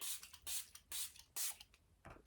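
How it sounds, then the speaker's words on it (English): Several short, hissing spritzes of a makeup setting spray bottle, close and soft, coming in quick bursts with brief pauses between them. "Setting spray."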